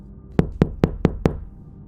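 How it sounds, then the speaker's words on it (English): Knocks on a front door: five evenly spaced, solid thuds in a steady rhythm, fairly close in a quiet room, alone without any voices. "Then came 3 knocks against the front door."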